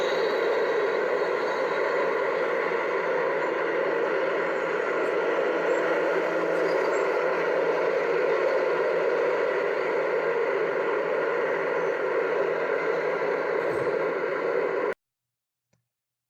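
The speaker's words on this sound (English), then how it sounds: "the roar of cars and motorcycles on one of the busiest streets" Steady, dense roar of car and motorcycle traffic on a busy campus street beside a statue and hospital, continuous broadband rumble with no gaps, then abrupt silence at the end.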